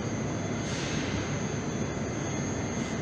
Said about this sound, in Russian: А пока мы ждем поезд. Он приближается.